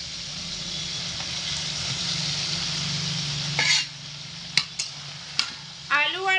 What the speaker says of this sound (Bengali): বেগুন দিয়ে হালকা হাতে খুব ভালো করে নাড়াচাড়া করে নেব